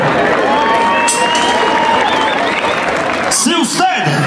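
Crowd applause and cheering at a rodeo bull-riding event in Mexico, a steady wash of clapping filling the arena with a whistle or whoop rising near the end.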